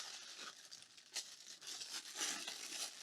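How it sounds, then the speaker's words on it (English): Plastic bag packaging around a Nikon Z6 camera crinkles and rustles steadily while being handled during unboxing, close and continuous with brief sharper crackles. "This comes just in a plastic bag."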